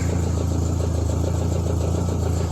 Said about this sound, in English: we'll let it idle, get up to running temp